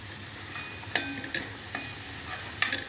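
Veg momo stuffing frying in a pan as soy sauce is stirred in, with a soft steady sizzle and several sharp scraping knocks of the spoon against the pan, no talking.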